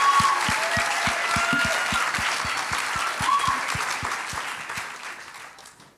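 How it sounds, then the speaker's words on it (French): A congregation at a baptism celebration applauds, with many hands clapping and a rhythmic pulse of unison claps keeping steady time before the sound tapers off. "Vous pouvez applaudir."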